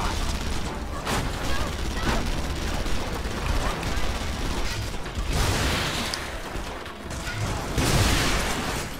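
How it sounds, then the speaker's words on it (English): Gun turrets fire in Red Faction Guerrilla as a dense, continuous fusillade of loud gunfire and booms, with game noise and explosions swelling throughout. "So we got gun turrets on the roof."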